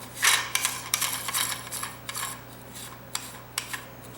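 Scraping, clinking metal and plastic sounds of a kitchen sink basket strainer being unscrewed, in irregular bursts of rubbing and light knocks, close by.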